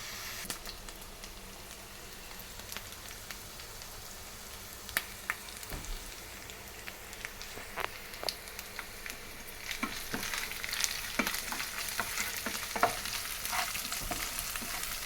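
Onions, coriander, mint, green chillies and ginger-garlic paste fry in a pan for gongura paneer pulao. A steady soft sizzle runs throughout, broken by frequent clicks and scrapes of stirring.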